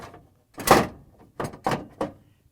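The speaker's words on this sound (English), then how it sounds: "we can install the new ice container and auger assembly by just sliding it in." Frigidaire refrigerator ice container and auger assembly sliding into place: a loud plastic thunk followed by three shorter knocking bumps as the part seats, close and alone in a quiet room.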